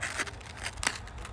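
Close-up crunchy cracking as a crisp rice cracker is snapped, a few brittle crackles with one louder break near the end.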